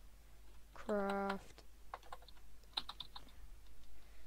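Quick bursts of clicks from typing on a computer keyboard come in short clusters, fairly faint, while a voice speaks briefly at the start.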